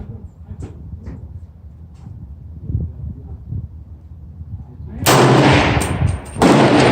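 Two sharp, loud 300 Blackout rifle shots with Barnes VOR-TX 110-grain rounds crack out late, each leaving a short ringing tail, after a few seconds of quiet outdoor shuffling and faint knocks.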